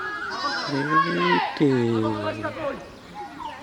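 A goat gives several loud, wavering bleats close by in a rural farmyard, the calls rising and falling one after another. Agitated voices argue around it.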